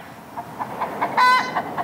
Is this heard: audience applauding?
no